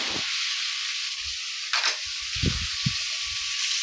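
Ivy gourd sabzi sautéing in a pan in a Bengali home kitchen, a steady bright sizzle and hiss running throughout, close by, with a few low knocks and stirring bumps underneath.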